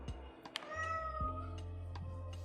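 A house cat lets out a couple of clear meows close by, with small knocks and clatter around it and a low hum underneath.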